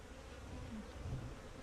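Honey bees buzz close by in a low, continuous drone, with individual insects droning past now and then.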